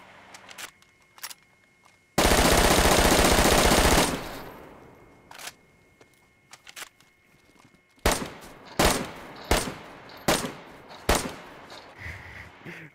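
Video game gunfire: a few sparse early shots, then a dense two-second burst of sustained automatic fire, a quiet pause, and finally a string of sharp, loud single shots spaced about half a second apart.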